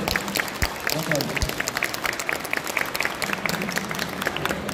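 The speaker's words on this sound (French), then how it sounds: "On peut applaudir s'il vous plaît" Audience at the Pictasia 2024 convention panel with international guests applauds, with crisp individual claps standing out over a general clatter and people talking underneath.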